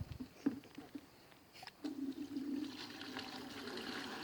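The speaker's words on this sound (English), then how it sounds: "put some water in that bucket" Water splashing and trickling into a bucket outdoors, faint at first with a few light knocks, then a steadier soft pour that continues to the end.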